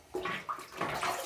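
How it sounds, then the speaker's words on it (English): Water splashes in short, close bursts as a face is wetted with warm bloom water before a wet shave. Several quick, soft sloshes follow one another in a quiet setting, with no speech. "now let's wet the face and use that bloom water kind of as a pre-shave"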